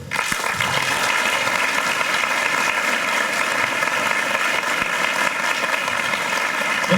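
Sustained applause from an audience at a health-week lecture event, a dense, even clatter of many hands clapping for the whole stretch.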